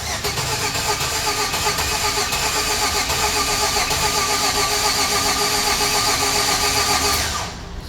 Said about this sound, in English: So that's good cranking for me.